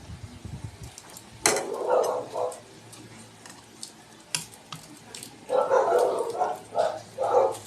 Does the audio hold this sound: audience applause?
no